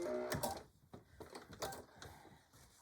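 Sewing machine running short back stitches on a tool carry bag, a few quick mechanical bursts of needle clatter separated by brief pauses, close and moderately quiet.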